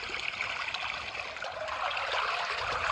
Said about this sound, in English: Look at the water coming blasting out of there.